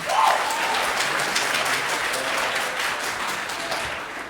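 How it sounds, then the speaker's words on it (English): Dense, continuous clapping from a concert crowd at a barbershop quartet show, holding steady at moderate loudness with a few faint vocal sounds under it. "Clap if you don't like coffee."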